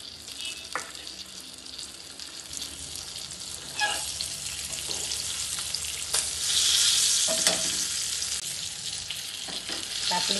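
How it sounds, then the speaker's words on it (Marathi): Pomfret fish shallow-frying in oil in a pan, a close, loud continuous sizzle that swells stronger midway, with a few light clanks of a utensil and no talking. "पापलेटची दुसरी बाजू पण शेकली आहे."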